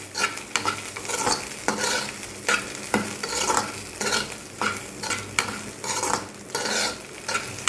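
Turkey berries being sautéed in a pan, with steady sizzling under repeated sharp scrapes of a spoon stirring through them, close and fairly loud with no talking.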